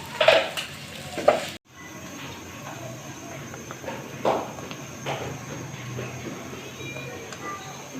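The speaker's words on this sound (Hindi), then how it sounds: "अब हम मसाले को बस फ्राई करके चूल्हा बंद कर देंगे" A spice mixture fries in a pan, giving a moderate sizzle with stirring scrapes and occasional clinks, after a few louder knocks and a brief dropout at the start.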